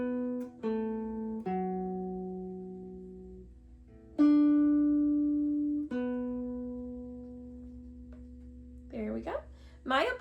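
Several plucked guitar notes ring out one at a time in a slow riff, each decaying before the next, followed by brief talking near the end.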